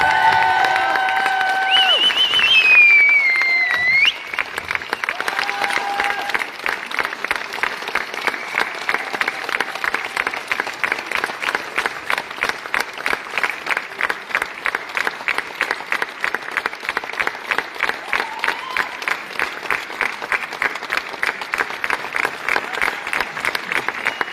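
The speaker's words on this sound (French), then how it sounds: "on applaudit notre invité et le sympathisant" An audience gives a guest a long, steady round of applause at an Enigma 2026 puzzle-solution event. It opens with brief voices and whistles, then settles into dense, sustained clapping that turns rhythmic and lasts throughout.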